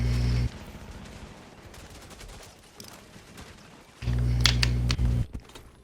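Bursts of gunfire from a PvP shooter match, loud rapid volleys at the start and again near the end, with quieter clicking and scattered distant shots in between.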